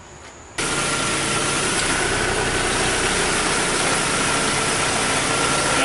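A car engine starts up and then runs steadily with the air conditioning on max, a loud, constant, close rumble after the first half-second.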